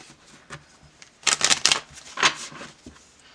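A Morgan Greer tarot deck is shuffled by hand, a few light taps followed by two quick bursts of crisp riffling cards, close and clear in a quiet room.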